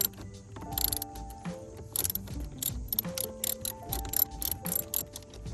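A hand ratchet with an 8 mm socket spins out bolts on a 10th-generation Honda Civic, giving rapid, close clicking bursts in several runs with short pauses between them.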